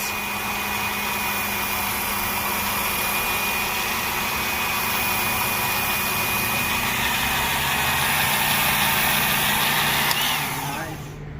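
A Work Sharp Outdoor electric sharpener runs at medium to low speed while a pair of open scissors is drawn against its grit belt, giving a steady, loud motor whine with a grinding hiss that holds for about ten seconds before winding down.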